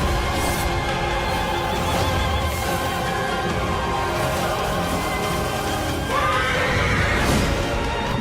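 A horse neighs loudly in a video game trailer, its whinny rising clearly over a dense, continuous bed of music and ambience, with a brighter cry near the end.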